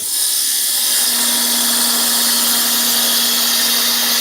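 A wood lathe spins at speed while a gouge cuts a box lid, giving a loud, steady roar with a sustained motor hum, close and continuous with no talk.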